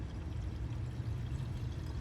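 Coolant streams into the radiator of a Mitsubishi 3000GT, a soft continuous pouring wash with a low gurgle, faint and steady for about two seconds.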